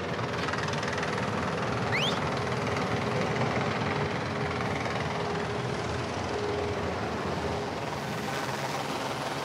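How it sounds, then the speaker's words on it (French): Steady, continuous rotor and engine drone from a helicopter approaching a stable barge near rocks in Provence, moderately loud and unchanging throughout with no voices. "Il faut faciliter l'approche de l'hélicoptère,"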